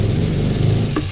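Garlic, onion and tomato frying together in a pan for squid adobo, a loud, steady close-up sizzle over a low hum, brief and without any talking.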